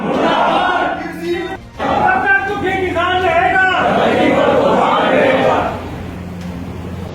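A crowd of protesting farmers loudly chanting slogans together in rhythmic call-and-response bursts, close and dense, with a brief dip before the voices swell again and fade toward the end.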